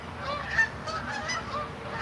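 A flock of geese honks steadily overhead, a dense run of nasal calls overlapping one another at moderate distance with no talk.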